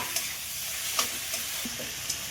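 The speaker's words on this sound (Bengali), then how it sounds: "এবার আমি এর মধ্যে ক্যাপসিকাম আর টমেটো দুটোই একসাথে দিয়ে দিচ্ছি। এগুলোকে খুব ভালো করে আবার ভাজবো।" Capsicum and tomato fry together in a pan, giving a steady sizzle broken by a few soft scrapes and taps as the vegetables are stirred.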